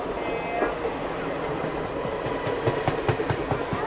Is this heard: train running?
yes